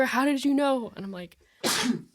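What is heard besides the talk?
sneeze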